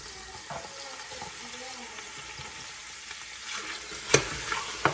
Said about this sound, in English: So we add the meat to the oil.